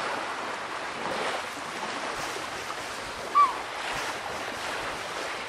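Sea waves wash in a continuous soft surf roar inside a children's counting game, with a brief chime near the middle and no voices.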